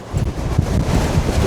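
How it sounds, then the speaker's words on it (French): Strong gusting wind buffeting the microphone while riding a Cyrusher Roam e-bike, a loud continuous low roar with rustling bursts and no voices. "Il y a un vent fou."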